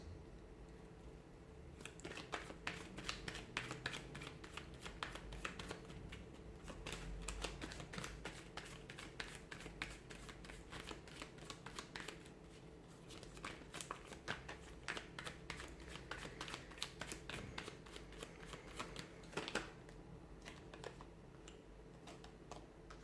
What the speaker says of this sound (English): Cards are just falling out.